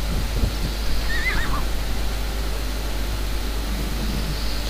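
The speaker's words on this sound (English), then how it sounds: "I'll just ignore the horse." A horse whinnies in Wars and Warriors: Joan of Arc, one rising and falling neigh near the start over a constant low hum and noisy ambience, then only background rumble.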